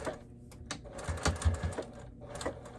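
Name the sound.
sewing machine stitching thick fabric of dog bed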